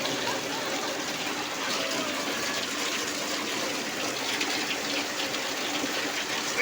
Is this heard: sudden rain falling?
yes